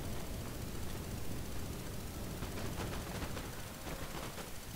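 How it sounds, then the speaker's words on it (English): Dense, continuous musket volleys crackle across a large Napoleon Total War battle in Dresden, a steady wall of overlapping gunfire with no clear gaps between shots. "We're all shooting each other. It's a big shootout in Dresden."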